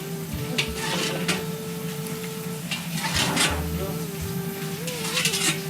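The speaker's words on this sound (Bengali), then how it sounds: "এই যে তেলটা কিন্তু চারপাশে দিয়ে দিবেন।" Oil poured around the rim of a pot of Puran Dhaka style Eid biryani hisses steadily, with metallic clinks and scraping from the pot and a constant hum in a busy cooking space.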